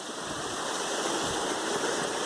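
Loud, continuous rush of cold mountain stream water on the Appalachian Trail, close by and unbroken, with no other sounds.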